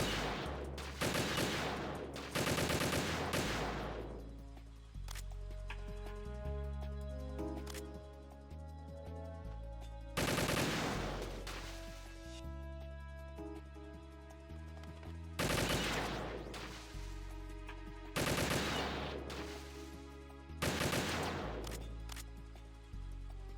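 PSG1 sniper rifle in Metal Gear Solid 2 firing six loud, sharp single shots at irregular intervals, each followed by a decaying echo, with metallic clicks and a low ambient hum between them.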